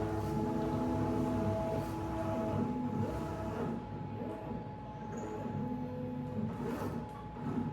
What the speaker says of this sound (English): we're going to jog the machine over to that corner